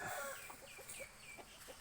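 Chickens clucking softly while fed corn in the morning, a scatter of short, faint calls and pecking noises over a quiet, hissy background.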